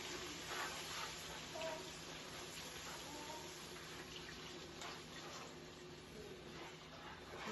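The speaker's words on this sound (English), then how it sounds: "I'm gonna go ahead and add my coconut milk" Coconut milk poured into a pot for a large-batch seafood boil, a soft continuous hissing liquid stream, close but fairly quiet, running steadily for several seconds with no speech over it.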